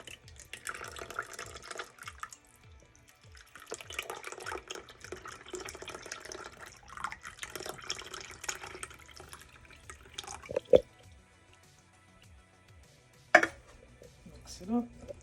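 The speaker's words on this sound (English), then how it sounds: "I'm about to pour the coconut milk in." Coconut milk is poured into Jamaican cornmeal porridge, giving soft liquid splashes and trickles in bursts over quiet kitchen background, with a couple of sharp clinks of a utensil or pot.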